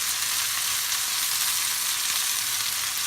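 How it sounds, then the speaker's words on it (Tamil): Cut crab pieces frying in a pan with turmeric, a dense, steady sizzling hiss that stays close and even throughout with no voices. "வெட்டி வச்சுருக்க நண்டை இதை ஆட் பண்ணலாம்"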